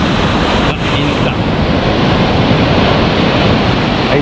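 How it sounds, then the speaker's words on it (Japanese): Ocean waves break on the shore at Enoshima, a loud, dense, continuous wash of surf with wind rumble on the microphone and no pauses. "あ、なんか波ありますね"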